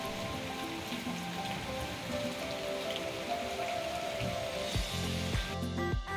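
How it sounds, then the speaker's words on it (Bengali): Steady rain patters on surfaces nearby, a dense, even hiss of drops that continues throughout without talk, with a few faint clicks and knocks toward the end. "আর আজকে দেখো বৃষ্টি হচ্ছে।"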